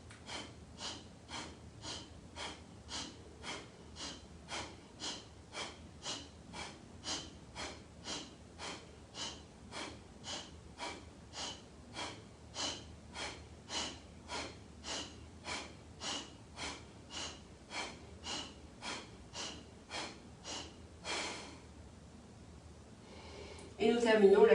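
Yoga breath of fire, about forty rapid forceful nasal exhalations in a steady, evenly spaced rhythm, close and fairly loud, ending with a longer breath out and a return to normal breathing.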